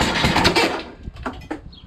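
A Kohler Courage engine on a lawn tractor cranks loudly in a rough burst, then sputters in a few brief, fading bursts without catching, close and with no one talking.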